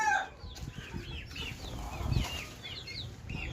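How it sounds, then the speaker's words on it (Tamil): Faint clucking and small chirping calls from several small native chickens in a cage, with occasional wing flaps and rustling, steady low background throughout. "பார்த்திங்கன்னா சிறுவடை கோழிகள்லாம் இருக்குது."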